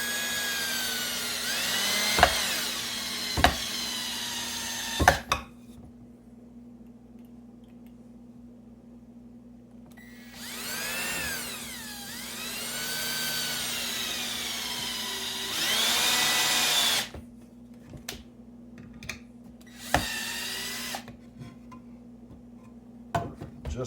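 A power drill drives screws while a drain snake is rigged to a bucket, with several bursts of whirring motor whine separated by quiet gaps and sharp clicks and knocks, close and fairly loud.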